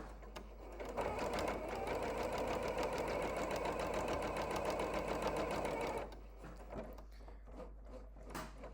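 A sewing machine stitches ribbon onto fabric in a loud, steady, fast mechanical whirr for about five seconds. It then stops, leaving a few soft handling clicks and rustles.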